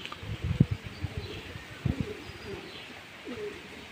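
Pigeons kept by a Bengali fancier coo softly in short low bursts near the start and again around the middle, with light rustling and faint background ambience between calls.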